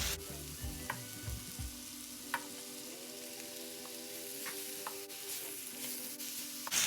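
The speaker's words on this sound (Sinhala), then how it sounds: "මේක හොඳින් බැද ගන්න" Mushrooms and chicken fry in a pan with a steady sizzle, a few soft clicks and scrapes of stirring near the start and scattered through, with no talk over it.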